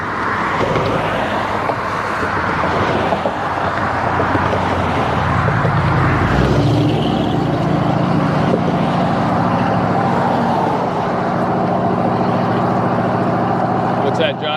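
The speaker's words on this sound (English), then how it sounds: "There was a truck going by." A truck passes on a road beside a cyclist riding across America near DeFuniak Springs, Florida; a low rumble swells midway and fades under steady wind and road noise, with voices talking.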